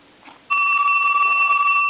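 After a brief faint rustle, an LG500G phone's alarm tone starts abruptly and holds steady, a bright sustained two-pitch beeping ring.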